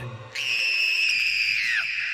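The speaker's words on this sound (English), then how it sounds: "her scream echoed" In the woods, a girl gives one sharp, shrill scream that holds steady for about a second and a half, then bends downward and cuts off. It is loud and piercing, alone against the quiet.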